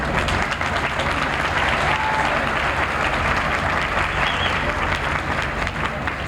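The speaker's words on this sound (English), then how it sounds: "I'd like to give a big hand of applause to Steve Marcus." Audience applause for an honoree at a 1987 event, a steady, dense wash of clapping from a crowd sustained throughout at moderate loudness.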